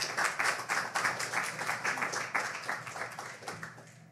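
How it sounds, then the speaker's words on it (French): Audience at a health conference in Quebec applauds, steady rhythmic clapping from a modest crowd, fairly faint and fading out at the end. "Une bonne applaudissement."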